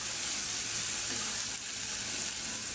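Spice masala with ground coriander and salt sizzles steadily in a pan for a bottle gourd and prawn curry, a continuous even frying hiss with no talking.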